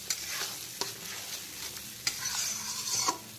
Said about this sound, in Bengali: পেঁয়াজ বাটাটাকে প্রথমে ভাজা ভাজা করে নিতে হবে